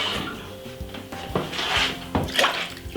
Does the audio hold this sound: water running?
yes